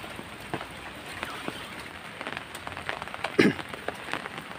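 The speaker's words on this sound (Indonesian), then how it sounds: "Inilah suasana gerimis di area makam, area kuburan ini." Light drizzle falls steadily at a cemetery, a soft even patter of fine drops on surfaces with a few slightly louder taps, no voices.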